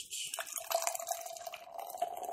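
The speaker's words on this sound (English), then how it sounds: "And I'm going to pour Rebecca first." Beer streams into a glass in a short, quiet pour, a thin liquid trickle with faint splashing and background room noise.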